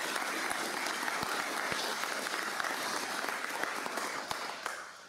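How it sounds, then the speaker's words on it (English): Audience applause at a UKIP political gathering, steady dense clapping from a crowd filling the room for the organisers, holding level throughout before tapering slightly at the end. "I'd like to just start with a round of applause for Marianne and for the committee for organising"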